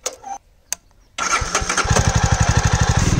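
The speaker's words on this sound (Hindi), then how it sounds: "जावा भाई चालू कर दे एक बार" A Jawa motorcycle is kicked over and its engine catches, settling into a loud, close, steady thumping idle after a brief quiet pause.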